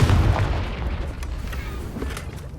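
A Confringo blasting spell from Hogwarts Legacy lands with a deep boom, followed by rumbling bursts and pops that fade slowly into a steady low roar.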